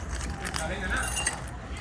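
Car keys jangle close up in a steady metallic rattle and clink that runs through the short moment, with faint background noise.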